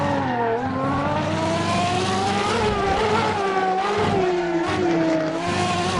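Race car in the Assetto Corsa driving game, its engine droning loud and steady with pitch rising and falling through gear changes and throttle, while tires squeal through a tight turn; no voices.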